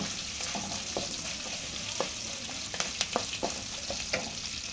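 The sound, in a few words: stirring fried onion tempering in a pan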